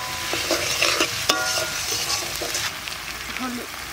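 Garlic, ginger, cumin, coriander and a dried chili frying in hot oil, a crackling sizzle with spoon scrapes and clinks against the pan as the spices are stirred.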